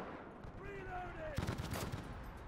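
A Bren machine gun fires in the World War II shooter Enlisted: a short, rapid burst of cracking shots, fairly close, following a moment of quieter battlefield ambience with thin whistling tones.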